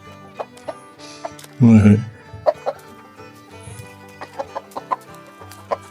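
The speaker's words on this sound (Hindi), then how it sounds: "तो सारी मुर्गियाँ यहाँ रहती हैं।" Chickens clucking inside a coop in a German village near Marburg: scattered short clucks and one louder squawking cackle, with a person talking over them.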